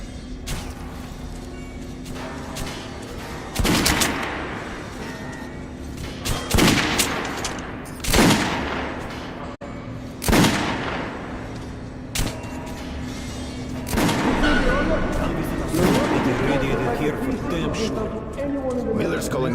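Gunfire in the video game Metro Last Night: a series of sharp, loud shots spaced a few seconds apart, some in quick bursts, over a steady background hum.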